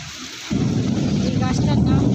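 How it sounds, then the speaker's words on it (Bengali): Loud thunder rumbling over a rooftop garden, a deep rolling boom that starts abruptly after a brief quiet moment and keeps growling steadily to the end. "খুব আবার জোরে মেঘ ডাকছে।"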